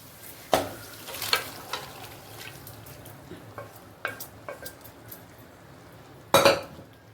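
Onions sauté in a pan of mutton curry, with a soft sizzle under irregular sharp clanks and scrapes of a spoon against the metal pan, several louder knocks spaced apart.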